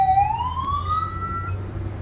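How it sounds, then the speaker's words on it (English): An ambulance's electronic siren, run in test mode, sweeps steadily upward in pitch, loud and close, over a low engine rumble. "checking the lights to see the test mode to see if all the sirens are working"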